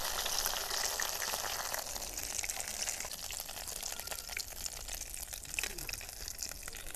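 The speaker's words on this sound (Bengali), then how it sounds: "লঙ্কার চপগুলো উল্টে পাল্টে ভেজে নিয়েছি" Potato-stuffed chili chops deep frying in hot oil, a steady dense sizzle and crackle running throughout, with faint clinks of turning the chops.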